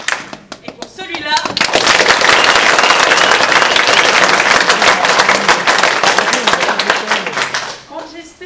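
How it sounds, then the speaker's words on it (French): Audience at an improv show applauding to vote for a couple: after a brief lull, loud, dense clapping erupts near the stage and holds steady for several seconds before tapering off, with voices faintly heard around the edges. "cela va se jouer à l'applaudissement."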